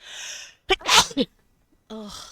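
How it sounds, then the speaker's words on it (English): A single sharp sneeze from a woman, preceded by a strained breathy inhale and followed by a short voiced groan, close and loud. "I have to sneeze."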